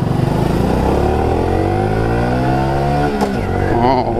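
A 155cc motorcycle engine revs up steadily, its pitch climbing through the gears, loud and close, with a brief shift before it keeps pulling.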